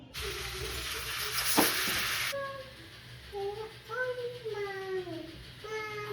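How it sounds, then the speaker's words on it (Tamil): Spices hit hot oil with a loud, brief sizzle that cuts off after a couple of seconds, followed by a voice talking. "இப்போ இதை தாளிக்க தான் போகிறோம்."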